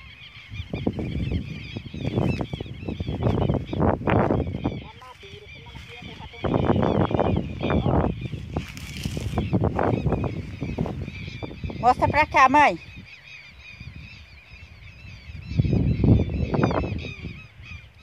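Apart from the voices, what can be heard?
birds calling outdoors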